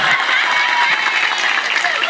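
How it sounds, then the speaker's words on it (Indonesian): An audience at an Islamic religious gathering (pengajian) claps continuously, a dense, steady wash of applause from many hands with a faint voice underneath. "Tepuk tangan."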